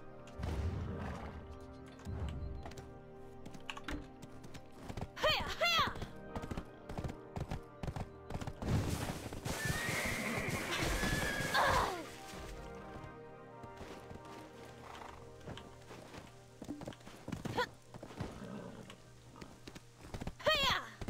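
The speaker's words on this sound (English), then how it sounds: "Stop attacking my horse." Horse in the online role-playing game Black Desert Online, neighing and clip-clopping amid game action, with crashing hits and a loud dense stretch midway, under intermittent talk.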